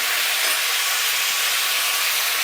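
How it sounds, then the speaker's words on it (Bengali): Soaked moong dal hitting a hot pot gives a loud, continuous sizzling hiss, bright and steady with no pauses. "প্রথমে আমি দিয়ে দিচ্ছি মুগ ডাল"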